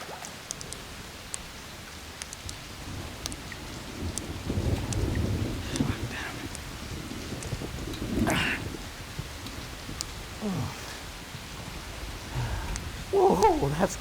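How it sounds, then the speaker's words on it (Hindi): Heavy rain pours steadily in a dramatic film scene, with a low rumble of thunder rolling through the middle and faint voices underneath. "आज बारिश होगी।"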